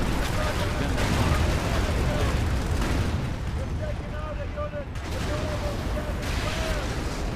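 Panzerschreck rocket-launcher squads fire rapidly in the Company of Heroes World War II strategy game, a dense barrage of booming blasts and explosions rolling one after another, with a voice talking over the battle.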